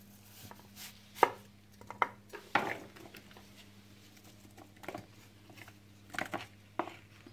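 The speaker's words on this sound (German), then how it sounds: "Dann schneide ich jetzt mal die Scheibe da. Es sollte etwa 1 cm dick sein." A knife slices food into slices about 1 cm thick in a kitchen where food is being sautéed, giving a handful of sharp, irregular cutting knocks over a steady low hum, with no talking.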